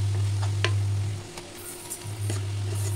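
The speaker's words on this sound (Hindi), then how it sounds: "और दही इसको टमाटर को भी अच्छे से भून लेते हैं" Ground tomato with spices and yogurt frying in a pan for a gram-flour curry, a steady close sizzle with a low hum running underneath and a few faint stirring ticks.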